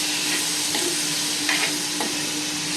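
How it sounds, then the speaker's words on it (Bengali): Half-boiled food, salted, fries in a pan with a steady sizzle and a few scraping stirs at intervals, close and fairly loud, with no talking. "একটু ফ্রাই হয়ে যাক তারপর আসি।"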